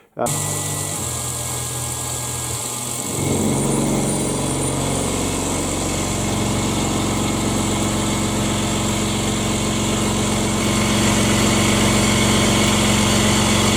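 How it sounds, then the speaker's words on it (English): A Tormach 1100 CNC milling machine cuts loudly and continuously, a dense mechanical roar with rough vibration and hammering from a worn cutter that deepens after a few seconds and holds steady. "as the cutter wore, I could hear it hammering and vibrating more severely"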